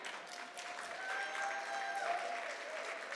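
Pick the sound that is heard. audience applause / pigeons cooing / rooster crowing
audience applause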